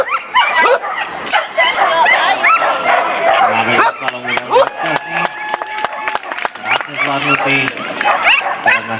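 A fast border collie at an agility competition in Bratislava gives quick barks and yips close by, mixed with an announcer's running commentary and busy event noise.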